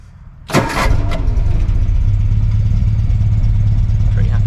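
An MGB GT engine cranks briefly and catches, then settles into a steady, rumbling idle that carries on close and loud to the end, with no talking.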